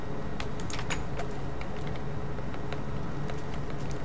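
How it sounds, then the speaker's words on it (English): In the video game Minecraft, a fence catches fire from lava embers and burns, giving a faint, irregular crackle of sharp pops over a steady hissing background, with no talking. "that was the sound of your fence burning."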